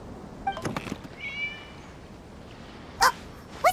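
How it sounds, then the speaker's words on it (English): A cat in the video game Genshin Impact meows a few times up close, short high calls with a brief pause between, over a soft background hiss. "It was just a cat."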